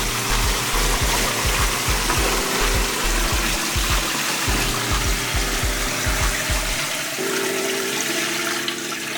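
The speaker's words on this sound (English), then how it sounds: "we're going to open our Nimbus and pour our water in" Water glugs and splashes as it is poured from a 20-liter container into the tank of a Chauvet Nimbus fog machine, a loud, steady pour with rhythmic gulping pulses and no talk.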